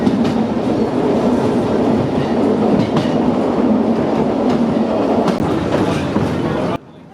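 A diesel locomotive pulls five passenger wagons along the Šargan Eight mountain museum railway, a loud, close, continuous rumble with rhythmic clickety-clack of wheels on rail joints that cuts off abruptly near the end.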